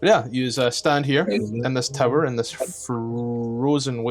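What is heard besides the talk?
None of the usual background noises is heard.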